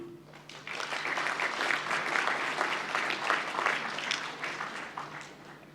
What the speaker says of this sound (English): Let us give a round of applause to the graduate who have just been presented.